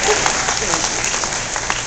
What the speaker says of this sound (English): One more round of applause for the young man.